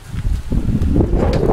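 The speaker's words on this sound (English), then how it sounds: "You might hear a lot of wind." Heavy wind buffets the microphone of an iPod touch 4th generation with a low, constant rumble, gusting louder as it goes, with faint rustling underneath.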